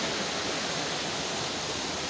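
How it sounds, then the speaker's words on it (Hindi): Water rushing down from the hills makes a steady, dense roar that fills the whole span evenly, close and loud, with no break and no voices. "पूरा उधर से पानी आ रहा है"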